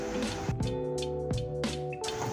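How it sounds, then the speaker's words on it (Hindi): Sugar syrup flavoured with cardamom powder comes to a boil in a pan, giving a steady bubbling, sizzling texture with repeated soft pops throughout. "इसमें बॉयल आना शुरू हो गया है"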